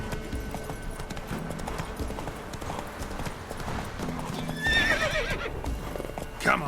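Roach the horse from The Witcher 3 trots with steady clip-clop hoofbeats, then lets out a clear neigh near the end, set over a busy in-game ambience.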